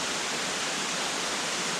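Steady broadband rush of Ramona Falls spilling down rock on Mt. Hood along the Timberline Trail, a constant close hiss of falling water with no other sounds.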